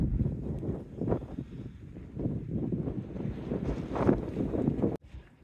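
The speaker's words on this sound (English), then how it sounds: "Super windy out here" Strong wind at the Great Sand Dunes buffeting the microphone in loud, uneven low gusts that rise and fall throughout, with a sudden drop just before the end.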